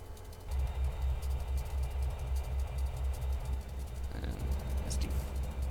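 A diesel locomotive engine in the Trainz railroad simulator rumbles steadily at idle, with a deep throbbing pulse and a faint metallic squeal partway through, fairly loud and alone.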